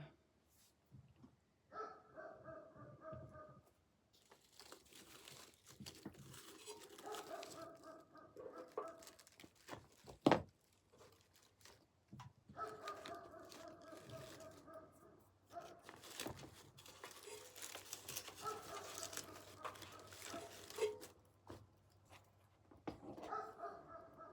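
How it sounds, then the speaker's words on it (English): A dog barks outdoors near a cut flower garden in faint, distant bursts that come and go, with birds and quiet rustling around it. "That dog always barking."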